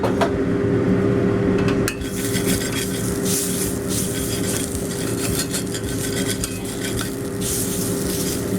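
Spices sizzling and frying in a pan while cooking Bengali doi rui, a steady crackling hiss close up, with a few occasional clinks of a utensil against the pan.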